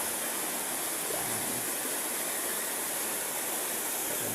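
Water tumbles steadily down a natural waterfall at an outdoor swimming spot, a loud, unbroken broadband rush that fills the whole span, with a brief word spoken over it.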